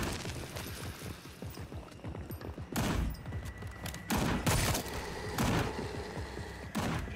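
Gunfire from the Sker Ritual video game, several sharp loud bursts a second or so apart over a low rumbling game background.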